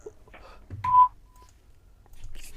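A phone number is dialed, giving a short series of DTMF beeps of varying pitch, one tone held longer than the rest, close and clear, with faint background noise and no talk.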